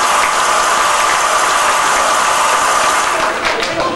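Wedding guests applauding in a sustained burst of dense, even clapping from a crowd, filling the room steadily for several seconds without pause.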